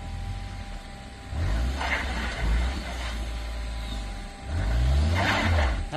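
Toyota Terios SUV crawling forward over an off-road rut, its engine rising in two loud revving bursts with low rumbling between them, close by and without talk.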